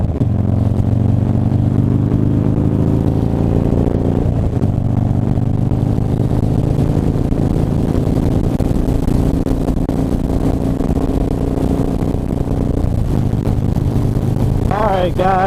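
A Harley-Davidson Dyna motorcycle engine runs loud and close on a cold day, a steady low rumbling drone with a few slight pitch shifts as it is ridden off, and a brief squeaky sound near the end.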